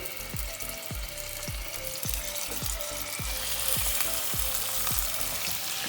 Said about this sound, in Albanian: Kemi hedhur vajin, tani vazhdojmë edhe i vendosim filetot e pulës